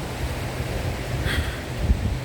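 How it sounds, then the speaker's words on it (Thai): Sea waves at the seaside, a steady washing surf with wind noise across the microphone, continuous and moderately loud, no talking. "ก็อยากเอาชายทะเลมาฝากค่ะ"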